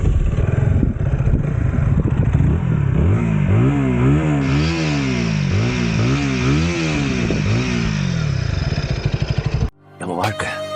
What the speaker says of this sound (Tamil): இந்த பைக்கோட எக்ஸாஸ்ட் சவுண்ட் பார்ப்போம்.